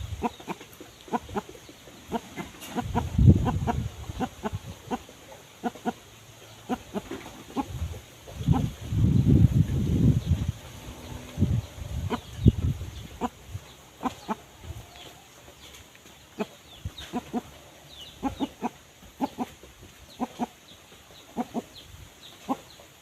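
Young chickens cluck and squawk intermittently nearby during exercise, with scattered sharp calls and some louder bursts of flapping or movement.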